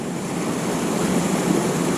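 Steady rushing whitewater of the Hamilton Branch river, a continuous broadband roar of churning bubbles close by, unbroken throughout with no voices.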